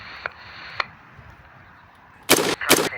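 Gunfire during an active-shooter police response: two sharp, loud broadband cracks close together near the end, after two fainter clicks earlier over a quiet background.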